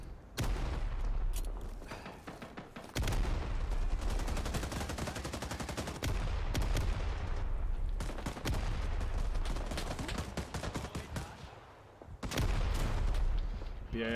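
Combat in Rising Storm 2: Vietnam, with a grenade blast among loud, continuous gunfire and booming explosions that run nearly throughout, close and dense.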